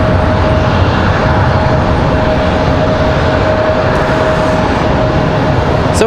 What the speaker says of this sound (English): Nice departure for Copa.